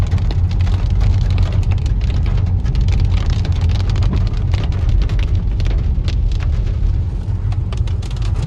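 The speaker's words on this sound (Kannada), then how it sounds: "ಏನು ಮಳಿ ಒಂದೇ ಫುಲ್ ರೈನ್" Heavy rain drumming steadily on a car driving through dense forest, a loud continuous hiss and patter with the engine's low rumble beneath, no talking.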